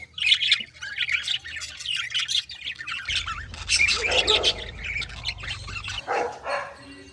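Caged lovebirds at a pet park aviary in Mysore squawk loudly and continuously, with sharp shrill calls overlapping in a busy chorus and a low hum underneath.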